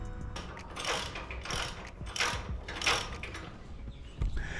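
A hand wrench clicks and ratchets on stainless hardware during a boat trailer restoration, close and repetitive, with quick bursts of ratcheting separated by short pauses.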